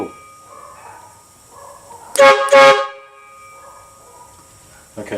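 An air horn blaster, turned up to higher air pressure, lets out two loud close blasts in quick succession, with faint distant dog barking before and after.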